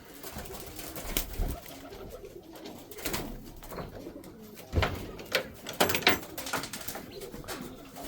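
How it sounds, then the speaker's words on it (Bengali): Several pigeons coo inside a pigeon house, with soft, overlapping, throaty calls repeating close by and a few louder bursts near the end, with no talking. "চলো আজকে কবুতর ঘরের মধ্যে যাব যে আসলে কবুতর ঘরের মধ্যে কি অবস্থা"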